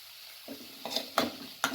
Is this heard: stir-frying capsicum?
yes